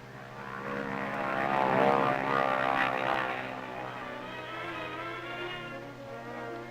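An Army C-47 propeller transport at Aslito Airfield drones with a steady, loud engine hum that swells as it passes close, then holds a sustained rumbling tone.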